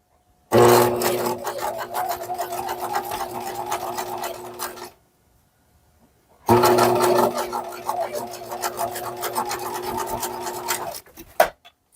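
A sewing machine stitches a short seam on a doll slip in two steady, close, buzzing runs of about four seconds each, separated by a brief silence and ending with a small clunk.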